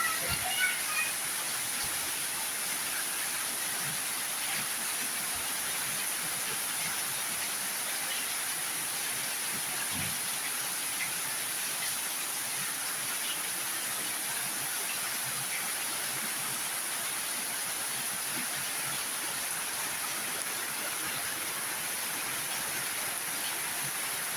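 Rain falls steadily with a continuous broadband hiss that stays even for the whole stretch, while a voice talks faintly underneath.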